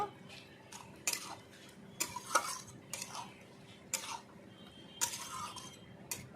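A spoon stirs a pot of ripe cucumber and prawn curry, with soft, close metallic clinks and scrapes repeating unevenly against the pot over a quiet background.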